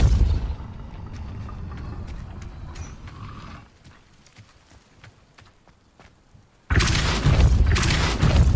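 A Depulso spell cast in Hogwarts Legacy: a rumbling, whooshing burst of magic that fades to a quieter stretch, then a loud sudden blast of force near the end.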